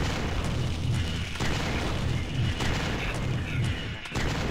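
Spiders bursting in the video game Larva Mortus, a dense run of heavy booming blasts and crackling pops that pile up continuously and stay loud from start to finish, with no talk over them.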